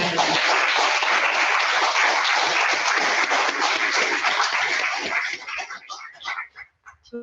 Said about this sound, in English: can we have one more round of applause for Professor Emeritus Hubert